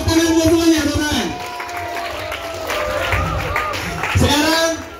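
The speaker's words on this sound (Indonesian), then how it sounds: "Sekarang tepuk tangan buat semuanya, teman-teman." A group of young santri claps together during a game at a villa, with a steady patter of applause mixed with voices calling out and talking over it.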